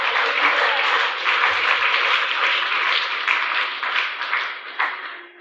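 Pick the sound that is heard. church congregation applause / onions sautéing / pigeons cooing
church congregation applause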